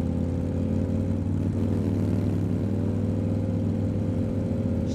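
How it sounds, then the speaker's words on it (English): A motorcycle engine runs steadily throughout, a loud, close, continuous low drone with a slight pitch dip partway through and no talking. "She rides a motorcycle."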